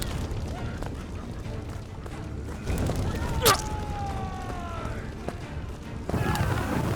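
Large bombs exploding in the open-world RPG Gedonia 2, a sharp crashing blast followed by ringing tones, with rumbling impacts over game ambience and a voice talking.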